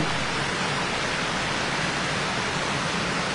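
A waterfall in the Philippines roars in a loud, steady, broadband rush of falling water that stays unbroken throughout, heard close and alone.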